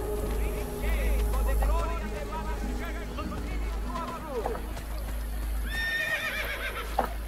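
A horse in the video game Assassin's Creed Brotherhood neighs and whinnies loudly while hooves clip-clop at a gallop, set against a busy in-game background with murmuring crowd noise.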